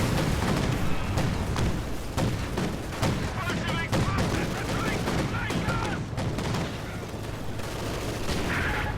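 Dense, continuous barrage from an Ostwind flak tank in Company of Heroes 2, rapid repeated cannon bursts and booms layered with distant battle explosions throughout, loud and sustained.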